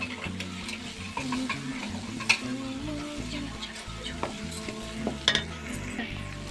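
Spice powders and garam masala being stir-fried for dhuska potato filling, a steady low sizzle with a spoon scraping and clinking against the pan in uneven strokes, close and moderately loud, no voices.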